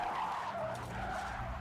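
Tires skid loudly as a car swerves on a road in the horror film Hereditary, a sustained screeching squeal with engine and road rumble beneath, close and continuous throughout.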